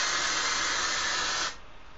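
Tresemme hair spray hisses in one loud, steady continuous burst aimed at the roots of the hair, cutting off abruptly near the end with no talking over it.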